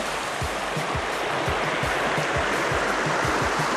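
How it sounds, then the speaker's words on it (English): Cooksbrook, a lively little brook in Maine, rushes steadily with a broad, constant hiss of flowing water, close and loud, with no voices over it. "It's a lively little brook."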